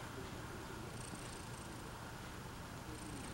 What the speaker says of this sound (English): I can hear him purring from here.